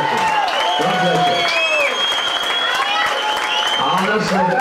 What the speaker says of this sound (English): you must keep the biggest round of applause for Alio Wilton